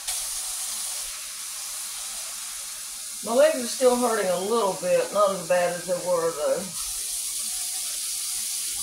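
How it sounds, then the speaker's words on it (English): Kitchen faucet water runs into containers in a sink, a steady hiss filling the whole clip while a person talks briefly over it. "let me get some water in these"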